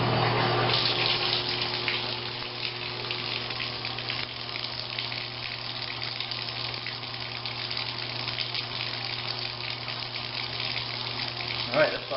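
Steady rush of cold incoming ground water running from a tap into a Marey PP220 tankless water heater setup, constant and moderately loud for the whole stretch with a faint low hum beneath and a small knock near the end.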